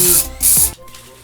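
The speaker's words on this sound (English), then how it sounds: "Make a nice happy thick coat of spray." Two close, loud bursts of spray from a can laying a thick coat onto a homemade mousepad, each a short hissing blast separated by a brief gap, followed by quieter room sound.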